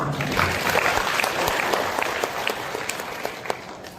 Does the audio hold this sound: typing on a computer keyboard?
no